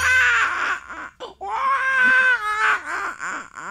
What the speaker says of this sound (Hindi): अरे कैसे बच्चा रो रहा है?